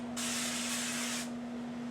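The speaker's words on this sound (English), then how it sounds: "Then I take olive oil, non-aerosol spray," Olive oil from a non-aerosol pump spray bottle is misted over tortilla chips in a kitchen, one steady hiss lasting about a second over a faint constant hum, with no talking.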